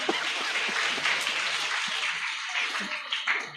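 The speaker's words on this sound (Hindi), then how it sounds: "ताली बजाइए जोर से।" A seated audience claps together during a spiritual talk, a dense continuous round of applause, fairly loud and steady, tapering slightly near the end.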